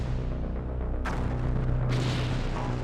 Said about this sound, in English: blow it in half with a series of powerful explosions